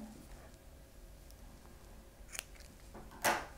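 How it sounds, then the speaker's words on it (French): Scissors snip through knitting yarn after a sleeve is bound off, a few soft faint clicks followed by one sharper, louder cut near the end in an otherwise quiet room. "Je coupe mon fil"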